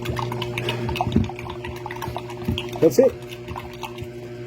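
Water sloshes and drips as it is shaken in a container with an MGI Super Stirrer, turning it alkaline, in a few short splashy bursts under close, steady talking.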